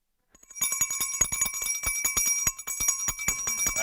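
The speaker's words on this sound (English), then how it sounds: "Choose your bell." Handbells are rung rapidly at the stock exchange opening, two at once, in a continuous bright jangle of fast metallic strikes that lasts several seconds, close and loud.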